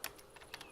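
Fingers tapping a computer keyboard in a quiet room, a few light, irregular keystrokes spaced across a short moment, close and soft.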